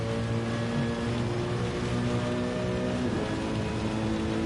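Steady rain hiss at Suzuka in the Gran Turismo 7 racing game, spread evenly over the whole clip, with a constant droning engine tone layered underneath and no voices.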